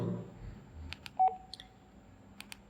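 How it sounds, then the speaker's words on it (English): A Baofeng UV-5R Mini handheld radio gives a brief, single alert tone, set among a few sharp button clicks, heard close up and fairly quiet. "The tone that is sent when we press the alert"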